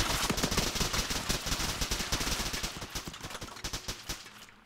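Gunfire in the ARMA 3 military game: rapid automatic bursts and overlapping shots crackle continuously at close range, fading slightly toward the end.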